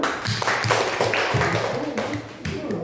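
Students in a classroom clap for a presenting group, a scattered patter of hand claps over room noise and murmuring voices, with a few sharper taps standing out.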